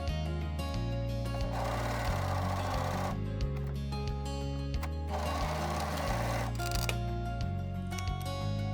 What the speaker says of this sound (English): If you are using a sewing machine, use zigzag or a stretch stitch.